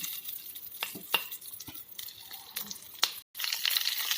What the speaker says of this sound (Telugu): ఆయిల్ కాగాక ఒక్కొక్క మిర్చి ఇలా మసాలా వైపు ఇలా తిట్టి పెట్టండి